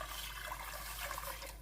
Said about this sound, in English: I'm still going to add 4 additional cups of water to my pot now.